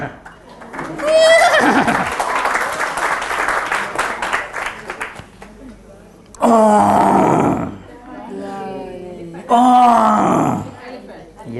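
Recorded horse neighs play for a class, with three loud, whinnying bursts that quaver up and down, separated by quieter gaps.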